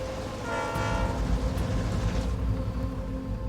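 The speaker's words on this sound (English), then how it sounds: "Oh, we got a train getting close here." A train approaches and rumbles close by at a highway dump truck wreck site, with a deep continuous roar and a sustained horn blast, loud and steady throughout.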